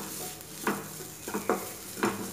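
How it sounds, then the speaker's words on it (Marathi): Spices such as red chilli and coriander powder sauté with onions in a pan, giving a soft steady sizzle broken by a few distinct spoon scrapes and stirs, quiet and close with no talking. "आपण हे व्यवस्थित परतवून घेऊयात"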